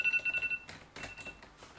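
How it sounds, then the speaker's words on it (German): A mobile phone rings in an indoor setting, a short repeating electronic ringtone pattern that cuts off partway, followed by faint rustling and background noise. "Oh, da klingelt ja mein Handy."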